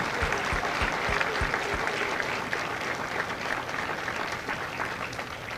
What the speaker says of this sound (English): please join me in a round of applause for the families of Kilo Company